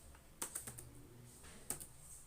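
Keys on a computer keyboard tapped in two short bursts, quiet close clicks separated by a brief pause.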